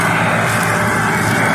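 A tractor strains to pull itself out of a field where it was stuck, its engine roaring loud and steady at full power the whole time, with heavy broadband rumble and no talk audible.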